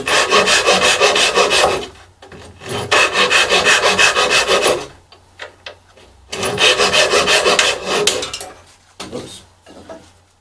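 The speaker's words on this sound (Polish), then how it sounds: "Nawet takie małe elementy można, można pewnie piłować." A hand saw cuts small wooden pieces held in a bench hook, giving loud, close rasping strokes in two long bursts of steady back-and-forth sawing separated by brief pauses with a few lighter strokes.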